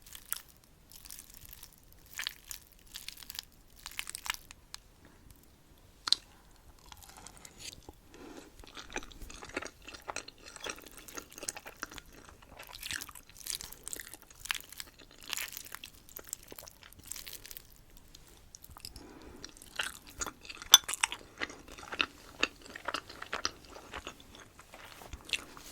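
Close-up chewing of pasta in a cheesy sauce, soft wet bites and mouth sounds repeating steadily and quietly throughout, with no talking.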